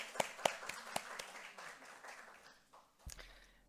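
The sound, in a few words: church congregation applauding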